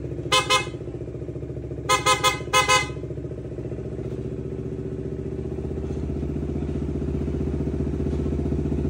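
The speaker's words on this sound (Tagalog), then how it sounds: "busina." Three short horn bursts, one single then a quick double, sound over a motorcycle engine idling steadily and slowly revving up.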